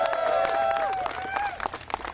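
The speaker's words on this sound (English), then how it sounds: "We need to give him a round of applause." A round of applause for a councilman at a City Hall press briefing for a Pride flag raising, with voices and cheers over the clapping at first, then scattered claps fading toward the end.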